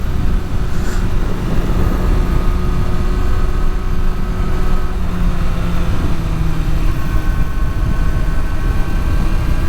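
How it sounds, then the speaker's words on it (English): A 2023 Kawasaki Ninja ZX-6R motorcycle engine drones loudly and continuously while riding a twisty backroad, with a steady low rumble mixed with rushing wind noise and no talk. "This bike's so fun just to throw around curves."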